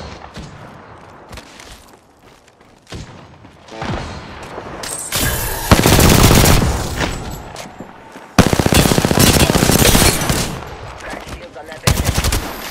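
Submachine gun fire in the battle game Apex Legends, sustained automatic bursts starting around a third of the way in, loud and close, with two long rattling strings and a short final burst.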